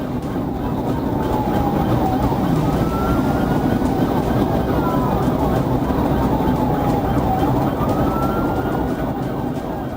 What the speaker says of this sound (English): Emergency lights and sirens were activated in an attempt to initiate a stop.